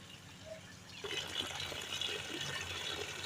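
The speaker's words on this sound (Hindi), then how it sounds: "कैसे पानी लगाया जा रहा है देखो," Water pours onto garden plants, including a newly replanted guava sapling, with a steady outdoor gush that starts abruptly and keeps splashing at a moderate level.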